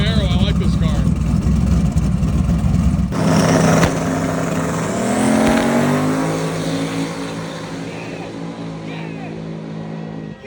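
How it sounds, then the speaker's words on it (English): A camouflage-wrapped turbocharged Chevrolet Camaro roars in a drag racing final at Roadkill Nights, its loud engine revving hard and climbing through gears before fading as it pulls away, with voices talking over it. "Here comes the last final of the day. Here's that camo Camaro."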